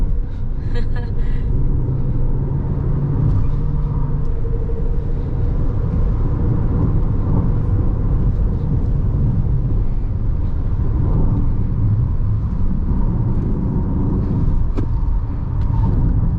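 A steady, loud cabin rumble inside a Chery Tiggo 8 PHEV, its electric motor whine running through it while accelerating, holding fairly even throughout with no clear pauses.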